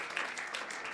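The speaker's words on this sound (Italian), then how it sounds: "merita l'applauso" A brief burst of applause from a crowd, dense clapping filling the moment without any talk.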